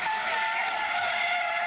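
Tires squealing as a car drifts in figure eights at the Iwaki Battery Valley Festa 2019, a loud, continuous high screech held steadily close by.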